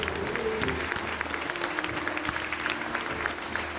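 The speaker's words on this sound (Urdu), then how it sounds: "بہت ساری تالیاں." Audience applause at a charity event, a steady wash of clapping from a crowd that holds at an even level throughout with no break.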